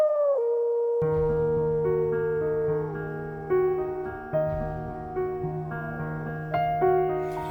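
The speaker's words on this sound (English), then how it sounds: "Gray wolf." A gray wolf howls in long, sustained, wavering tones that rise and fall, several overlapping howls carrying on loudly for the whole stretch after a brief opening cry.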